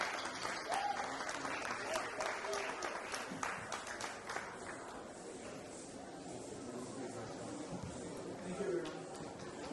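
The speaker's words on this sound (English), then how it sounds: "Could everyone please give these award recipients a round of applause?" Audience applause for award recipients at a Hindi Divas celebration fills the room, steady dense clapping with background voices and talk running underneath throughout.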